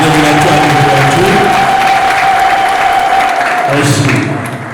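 Sustained audience clapping at a gospel album launch, a dense crowd applause over a held tone and voice, fading slightly at the end.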